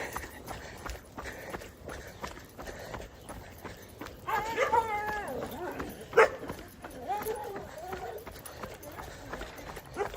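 Dog barks on a town street during a morning run, set against footsteps and a steady rhythmic clatter, with people talking nearby throughout.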